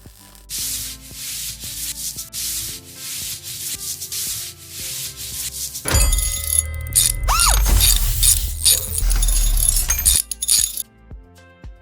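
Sanding on parts of a 1955 Mercedes-Benz 300 SL Gullwing under restoration, a steady abrasive rubbing that grows heavier and louder midway, with a few light metallic clinks, close by and with no talking.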